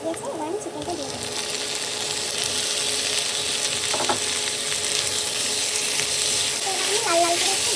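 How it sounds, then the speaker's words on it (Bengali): Chicken pieces frying in oil with browned onions, bay leaf, cardamom and whole garam masala, giving a dense continuous close sizzle with occasional stirring clinks and a faint voice in the background. "এবার আমি লাল লাল করে একটু ভেজে নেব"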